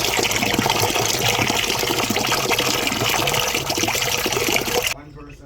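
A coconut is washed under running water in a kitchen while making Jamaican gungo stew, giving a steady, loud gush and splash that continues throughout and stops abruptly near the end.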